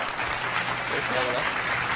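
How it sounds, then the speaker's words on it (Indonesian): A small group of people claps in an indoor setting, a brief, steady patter of handclaps with voices talking over it throughout. "Tepuk tangan dong."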